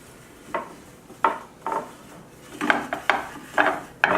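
Panko breading ingredients with salt are mixed in a bowl, a series of short scraping, rubbing strokes in an irregular rhythm, close and moderately loud with quiet gaps between them.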